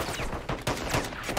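Video game gunfire cracks in a loud, close, irregular string of shots, several quick reports layered over one another in a dense burst.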